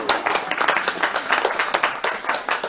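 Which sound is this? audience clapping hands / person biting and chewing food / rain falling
audience clapping hands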